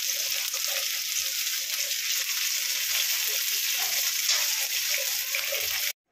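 Loud, steady sizzling of jackfruit and shrimp curry cooking in a pan as water is added, a constant bright hiss with small bubbling pops that cuts off abruptly at the end.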